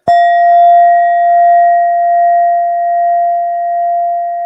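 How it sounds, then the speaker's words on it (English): A brass Indian singing bowl is struck once, giving a bright metallic attack that rings into a pure, sustained tone, slowly wavering and fading over several seconds with nothing else around it. "I also use sound instruments, which is this beautiful brass Indian bowl"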